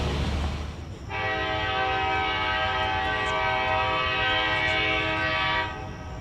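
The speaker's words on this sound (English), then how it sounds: "After a CSX local cleared the Diamond, train 956 continued its eastward journey." A CSX freight train passes with its horn blowing, a loud, steady, close horn chord held for several seconds over a low rolling rumble of the rails.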